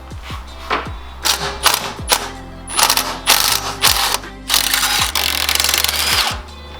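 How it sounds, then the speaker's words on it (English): Ratchet wrench with extensions backing full studs out of a 1JZ engine in an S13 chassis, giving repeated bursts of close mechanical clicking and ratcheting in several spaced runs with brief pauses between them. "Get your extensions. Looks like we're just pulling full studs out."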